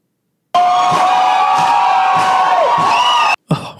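A smart home speaker's routine plays a loud recorded crowd roar with cheering and whoops, sustained for nearly three seconds before cutting off abruptly, followed by a brief fragment of further sound.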